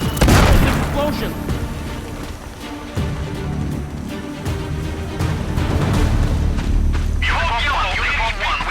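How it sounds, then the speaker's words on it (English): Explosions and gunfire in the video game Sniper Ghost Warrior Contracts 2: a loud boom opens, then sustained rumbling blasts and crackling shots continue throughout, mixed with game voices. "Explosion!"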